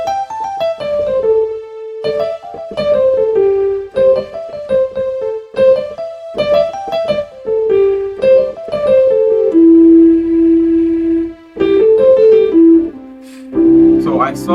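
A piano plays a pentatonic scale pattern, loud and close, with bright repeated notes in short stepping runs, sustained chords and brief pauses between phrases.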